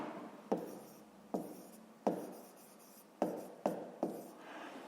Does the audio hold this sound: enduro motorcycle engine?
no